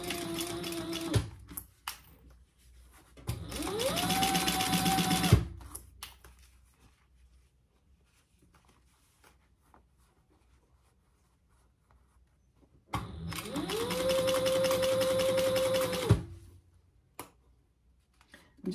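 A sewing machine stitches a small fabric wristlet in two steady whirring runs, each a few seconds long, separated by a long quiet pause with light handling clicks.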